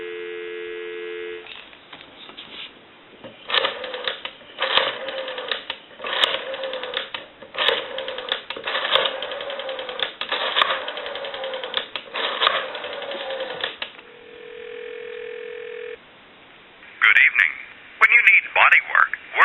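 A Western Electric 302 desk telephone, connected to a regular line, gives a steady dial tone, then a run of rotary dial clicks and line noise, followed by a recorded time-and-temperature announcement.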